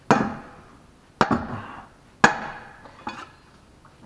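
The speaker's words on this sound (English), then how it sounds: "a couple good smacks with a hammer" Four sharp metallic hammer smacks on the fan nut of a 2006 Dodge Dakota engine, spaced about a second apart, each ringing briefly and fading, close and loud with no talk.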